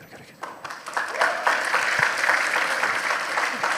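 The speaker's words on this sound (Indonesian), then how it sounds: "Bro, jangan tepuk tangan aja loh bro" A student audience at a university talk in Surabaya breaks into applause that swells from scattered claps into a fuller, steady round, with voices talking over it.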